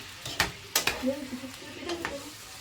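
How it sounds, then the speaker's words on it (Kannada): Chicken liver fries in hot oil without onion while a spoon stirs it, scraping the pan in a few sharp strokes over a faint, low sizzle. "ನಾವೀಗ ಲಿವರ್ನ ಹಾಕ್ಕೊಳ್ಳೋಣ ಆಯಿಲಲ್ಲಿ ಬಟ್ ಆನಿಯನ್ ಏನು ಹಾಕೋದು ಬೇಡ ನೀವೀಗೇನೆ ಡೈರೆಕ್ಟಾಗೆ ಸೇರಿಸ್ಕೊಳ್ಳಿ ಈಗ ನಿಧಾನಕ್ಕೆ ಮಿಕ್ಸ್ ಮಾಡ್ಕೊಳ್ಳೋಣ"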